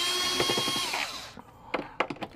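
A power drill backs screws out of the gauge cluster on a 2006 Dodge Ram, giving a short high whir of about a second that winds down, followed by a few light clicks and handling knocks.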